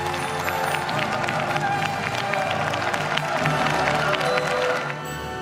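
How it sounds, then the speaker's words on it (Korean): A high-school audience at a televised quiz show claps and cheers steadily for a student contestant, the applause fading slightly near the end as a voice talks over it. "박수 좀 크게 보내주세요."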